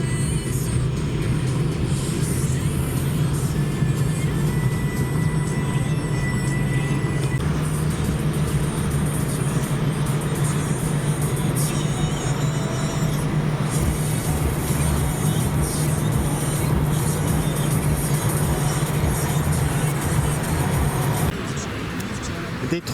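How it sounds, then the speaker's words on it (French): Busy car traffic in Sofia, the Bulgarian capital, a constant low rumble of engines filling the scene, with talking running over it for most of the stretch. "Beaucoup de voitures dans la capitale bulgare."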